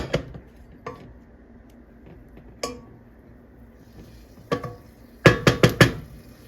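A metal cooking pot is handled in a home kitchen while butter goes in for chicken noodle soup. Scattered clanks and knocks sound close by, ending in a quick cluster of loud clinks, with no talking.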